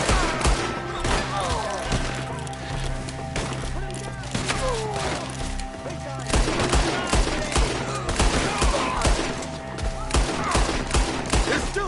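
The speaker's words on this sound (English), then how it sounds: "Shoot the ones up there first!" Rapid volleys of gunfire crack through a video game shootout in Red Dead Redemption 2, with enemies firing from up in the trees; dense, loud overlapping shots and thuds continue almost without pause.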